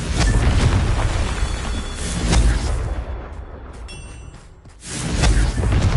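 A Confringo blasting spell explodes in Hogwarts Legacy on PS5 Pro, giving a loud, deep rumbling boom that swells and fades, then another burst near the end, amid continuous game noise.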